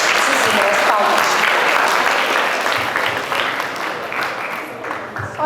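Audience applause fills a TEDx talk hall in Portugal after a question about NATO, steady dense clapping that fades slightly toward the end, with faint voices mixed in.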